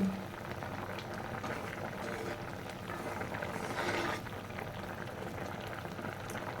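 Potato and sweet pumpkin simmer in a pot of poa fish and vegetable curry, giving off a faint, steady bubbling and gentle crackle throughout, with no talk over it.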